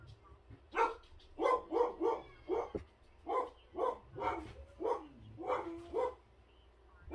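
Several dogs bark repeatedly at close range, a rapid run of about a dozen sharp barks in uneven bursts.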